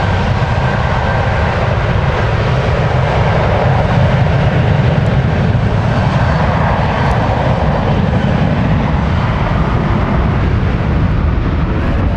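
A British Airways Boeing 757 takes off at San Francisco International Airport with a loud, steady jet roar that holds at full power for the whole twelve seconds.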